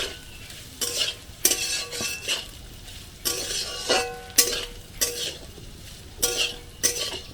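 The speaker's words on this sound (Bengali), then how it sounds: "সয়াবিনটা একটু ভেজে নেবো নাড়াচাড়া করে" Soybean chunks frying in oil, stirred repeatedly with a spatula scraping and clinking against the pan in regular strokes over a light steady sizzle.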